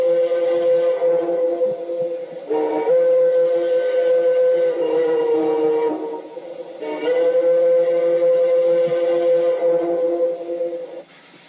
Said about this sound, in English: We have the bell coming into the station. And we have our whistle.